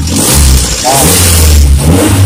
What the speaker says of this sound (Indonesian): Saya coba geber ya